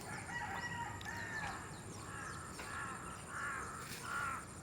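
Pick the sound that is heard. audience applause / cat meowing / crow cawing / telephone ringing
crow cawing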